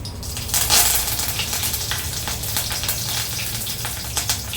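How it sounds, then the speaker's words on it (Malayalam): Mustard seeds crackle and pop in hot oil as dried red chillies and curry leaves go in, a steady close sizzle with sharp scattered spits throughout. "കടുക് പൊട്ടി തീരാറായി അപ്പോൾ അതിൽ രണ്ട് മുളക് ഇനി കുറച്ച് കറിവേപ്പിലയിടാം"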